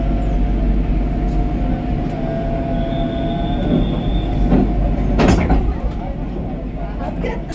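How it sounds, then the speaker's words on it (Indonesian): A locomotive idles with a steady low rumble and a faint high whine, then a few metallic clanks and bumps as it couples to the Ijen Express cars with a slight jolt. "persambungan lokomotif dengan keretanya kembali sudah dilakukan dan agak sedikit menghentak"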